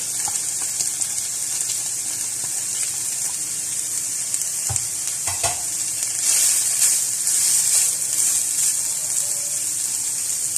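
Boiled shredded chicken and cabbage hit a hot pan, giving a steady broadband sizzle with a few clattering knocks midway and a brighter, louder hiss toward the end.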